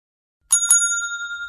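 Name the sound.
bell ringing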